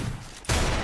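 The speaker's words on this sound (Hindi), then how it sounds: "यही बंदा दो गोली चला दे रहा है" Gunfire in a mobile battle-royale style custom match, a sudden loud burst of shots kicking in halfway after a quieter lead-in, dense and continuous to the end.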